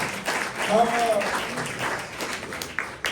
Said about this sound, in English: Round of applause for Alpic.